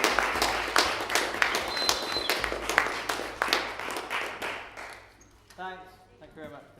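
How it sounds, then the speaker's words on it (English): A film crew on set applauds the actor at the end of a shooting day with a burst of close, scattered clapping that tapers off. A voice then speaks over the quiet that follows. "Big round of applause for our talent, Steve."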